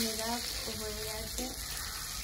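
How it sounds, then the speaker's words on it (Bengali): Fish frying in a hot iron wok gives a steady, close broadband sizzle throughout, with a voice faintly audible beneath it. "এবারে মাছ কটা ভেজে নিচ্ছি"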